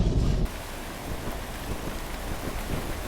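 Steady rain pours in the Legend of Grimrock 2 video game, a dense continuous hiss with low rumbling beneath, heavier for the first half second and then settling to an even wash, with no voices.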